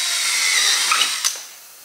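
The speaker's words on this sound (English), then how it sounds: "That's when you take your drill, and we're gonna drill this hole right in the front." A power drill bores a hole in the front of a Jackson Mayfly kayak for a one-hole bow mount, a steady whining drone that runs close and loud for a couple of seconds, then tapers off.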